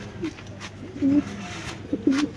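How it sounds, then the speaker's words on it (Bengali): Pigeons at a pigeon market coo close by, a few low throaty rolling coos spaced apart over a quiet background murmur. "এখানে আছে আরেক জোড়া কবুতর"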